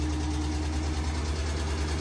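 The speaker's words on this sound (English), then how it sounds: "The ticking is coming from the exhaust under the car." A car idles with a steady low engine rumble, and a faint regular ticking from the exhaust underneath sits close by under the drone.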